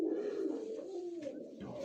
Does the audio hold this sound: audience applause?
no